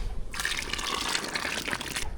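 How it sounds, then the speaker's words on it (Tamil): Tamarind water pours into a pot of simmering sambar, a close, continuous splashing gush lasting about two seconds before stopping. "புளி தண்ணி சேர்த்தாச்சு நல்லா கலந்து விட்டுக்கலாம்"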